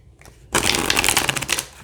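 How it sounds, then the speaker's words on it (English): A Magical Nordic Tarot card deck is shuffled once in a quick riffle, a dense burst of flapping, rattling card noise lasting just over a second. A few faint taps come before it, and no one speaks. "These decks are really great for shuffling."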